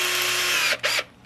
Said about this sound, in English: I'm going to pre-drill this as well, but I'm going to do that with a much smaller drill bit instead of 3/8 size